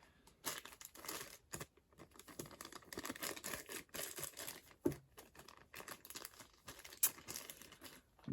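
A plastic packaging bag from a Tomica toy car gets crinkled and folded while being put away, producing faint, close, irregular rustling and crackling with a few sharper snaps.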